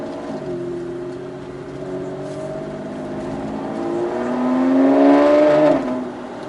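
A car engine, louder after a catalytic converter repair, idles and then revs up, its pitch climbing and growing louder before dropping back, heard up close with no talking.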